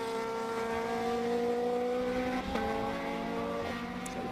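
A Genvy Gun TS6 TCR touring race car at full throttle at Donington Park in a 2019 BRSCC race, a sustained high engine drone with pitch dips at gear shifts, moderately close.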